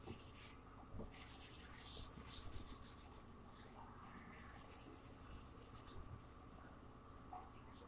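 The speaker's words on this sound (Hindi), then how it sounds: "तो आइए क्वेश्चन लिख लेते हैं।" A pen scratching out a chemistry question by hand: faint, continuous rubbing strokes with brief lifts between words, heard close and quiet with a soft murmur of talk.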